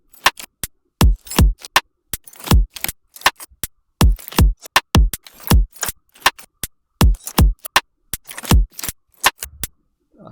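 A granular metallic texture with automated pitch sits over a punchy drum loop, with sharp clicking hits and deep kicks repeating in a steady rhythm.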